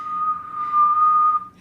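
A person whistles a single steady, fairly loud note held for about a second and a half before it fades out.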